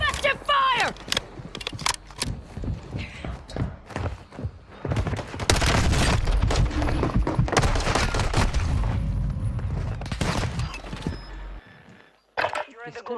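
Warzone 2 gunfire crackles in repeated bursts and heavy booming volleys, loud and close, packed through the middle of the clip, with voices and game announcements talking over the shooting.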